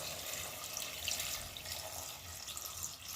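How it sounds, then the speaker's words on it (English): Water pours steadily from a tap into a pot of Jamaican brown stew chicken foot with scallion and green onion, a continuous close splashing rush with no talk. "I'm going to add some water, right?"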